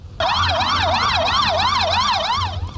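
A loud wailing siren cycles up and down in a rapid, regular rhythm, close by, over a low rumble of traffic.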